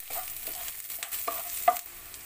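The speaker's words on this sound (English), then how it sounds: "red chili and garlic. And saute about 1 minute more." Red chili and garlic sautéing in a pan for Filipino fish soup (tinolang isda with salmon), a soft steady sizzle broken by a few brief stirring scrapes, close and fairly quiet, with no one talking.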